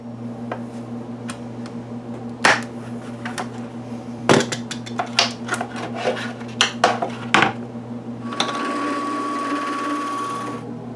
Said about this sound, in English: I'm going to mark and cut out a hole for the vacuum.